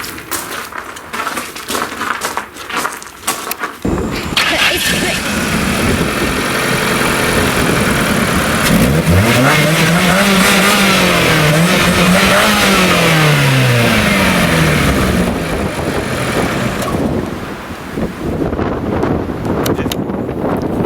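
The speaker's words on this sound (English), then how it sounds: "the Ford walked out of here on its own power" A Ford car engine starts up and runs close by, then revs hard in several rising and falling sweeps before settling back, with heavy wind noise on the microphone and no talk.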